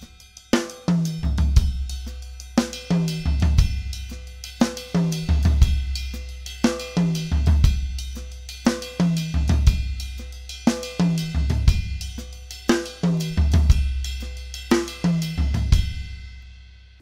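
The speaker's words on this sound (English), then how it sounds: "you can play the double with your left hand on the floor tom." A drum kit plays a steady funky bembe groove, the left hand adding a double stroke on the floor tom, with repeating punchy low tom and kick hits under bright cymbals in a loud, close, even rhythm.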